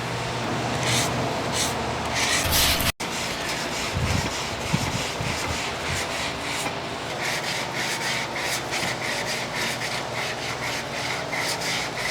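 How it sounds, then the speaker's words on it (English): Sandpaper rubbing over cured body filler on a car body edge, a steady loud scratchy stroking that continues without pause for the whole stretch, close up. "So now he's using the sandpaper to round those edges"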